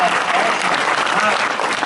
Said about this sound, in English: No whooping, but applause is good.